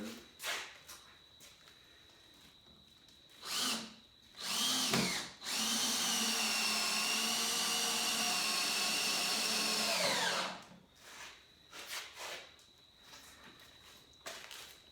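A power drill bores screw holes into a saw table. It gives a couple of short bursts, then one long steady whine lasting several seconds. Faint clatter and knocks are heard before and after.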